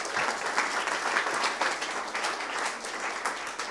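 An audience applauds after a pitch at an AI startup competition, dense continuous clapping from a sizeable crowd heard at moderate distance, steady throughout with no voices on top.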